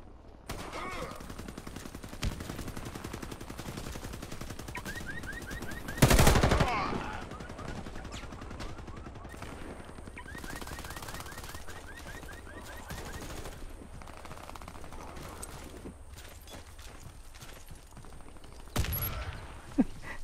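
Rapid bursts of automatic gunfire from a weapon in the online shooter Warface, with a loud blast around the middle and scattered shots and mechanical clicks across twenty seconds of game audio.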